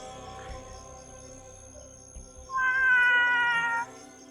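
A cat meows at night, one drawn-out, fairly loud meow late in the stretch following quieter ambient sounds and faint shuffling.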